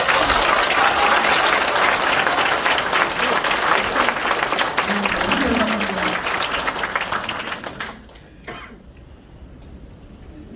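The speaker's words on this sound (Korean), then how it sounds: "박수 한번 좀 주죠." Dense audience applause fills a hall at a book talk with an author, steady and loud for about eight seconds before fading out, with a few coughs and voices under it.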